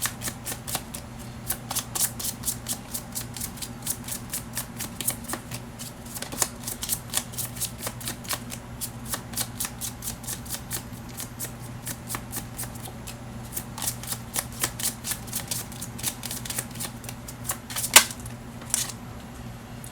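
Tarot cards are shuffled over and over, giving rapid riffling clicks and flutters in repeated bursts, close and clear above a low steady hum, with no talk.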